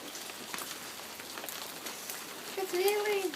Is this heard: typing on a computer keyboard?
no